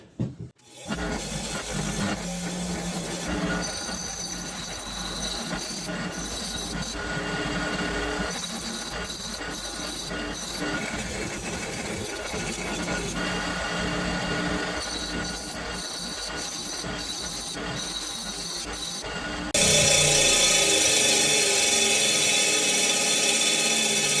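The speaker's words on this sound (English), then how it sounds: "that paint or powder coat was so ridiculously thick I actually had to take a grinding wheel to it to get it off of there" An angle grinder with a grinding wheel strips thick paint or powder coat from the metal of a pressure washer frame, a loud continuous whine and rasp running without a break, then jumping higher and harsher near the end.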